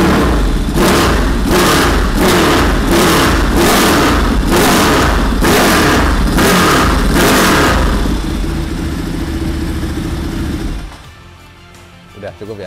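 A Ducati StreetFighter with an Austin Racing aftermarket exhaust revs hard again and again in a steady rhythm of loud blips over a rumbling idle, then cuts off abruptly.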